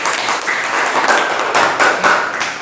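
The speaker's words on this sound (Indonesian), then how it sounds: "Tepuk tangan buat kelompok 3." Classroom applause for a student group during a short-story writing lesson: steady, dense clapping from many hands, fairly close and continuous, with a few brighter claps standing out.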